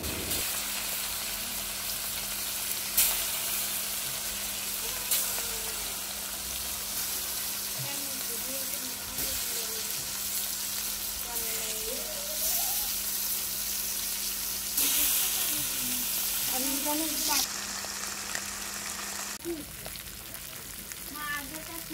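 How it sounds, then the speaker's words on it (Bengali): Fish coated with salt, turmeric and chili powder frying in oil, a continuous loud sizzle with a few sharp spits and spatters on top and faint stirring sounds now and then. "মাছগুলো লবণ, হলুদ আর মরিচের গুঁড়া দিয়ে মাখিয়ে তেলে একটু ভেজে নিব"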